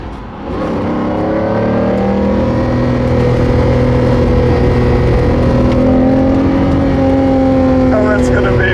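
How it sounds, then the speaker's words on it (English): A Lamborghini Diablo VT 6.0 with a V12 engine revs and pulls while driving, a loud, sustained engine drone rising and shifting in pitch from near the cabin. "And now it's time to go for a drive."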